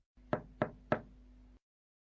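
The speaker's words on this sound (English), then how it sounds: "she knocked on the door." Three sharp knocks on a wooden cottage door, evenly spaced and close, set over a faint steady hum as an audiobook sound effect.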